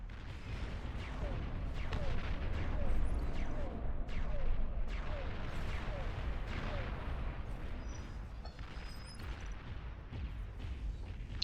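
Nuclear bombers drop bombs in the strategy video game Beyond All Reason, giving a series of deep, rolling booms and blasts spaced every second or so over a rumbling battle background.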